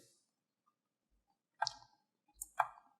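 Computer mouse clicks sound close and crisp in a quiet room, with a single click followed by a quick pair of clicks.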